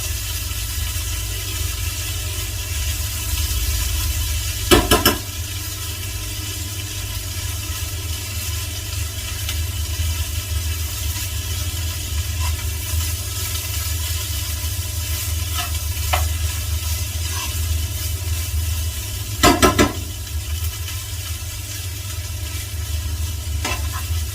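Spoon stirring Kerala-style green gram thoran in a pan over a steady, hissing sizzle, with a couple of louder scrapes and knocks of the spoon against the pan.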